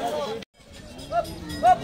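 Cattle lowing at a busy Qurbani cattle market in Paragram, Bangladesh, short deep calls heard amid crowd chatter and voices nearby.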